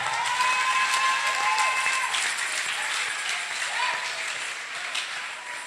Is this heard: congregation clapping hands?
yes